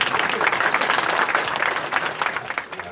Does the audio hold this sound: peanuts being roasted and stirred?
no